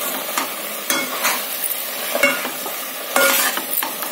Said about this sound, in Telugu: ఈ కారం కూడా మనకి ఈ ఆయిల్లో ఫ్రై అవ్వాలి.